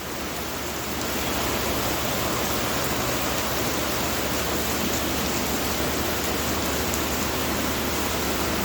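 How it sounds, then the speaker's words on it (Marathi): Heavy rain pours down in a dense, continuous hiss, loud and unbroken throughout after a slightly quieter start. "खूप म्हणजे खूपच पाऊस येतो आहे"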